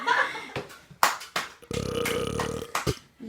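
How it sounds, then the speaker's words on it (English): A baby lets out several short, sharp burps, then one long drawn-out belch through the middle, ending with a few more quick bursts; no talking. "Your child won't stop burping."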